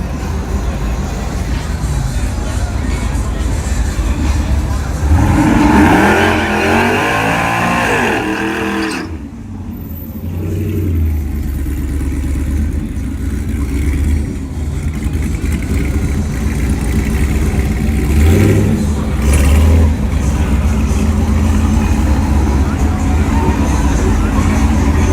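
Loud cars rev and race at a Yello Belly night event, engines roaring and sweeping past in long swells, with a sharp drop before the next car climbs back up; crowd noise fills the background.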